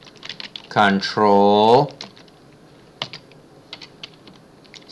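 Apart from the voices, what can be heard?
typing keyboard shortcuts on a computer keyboard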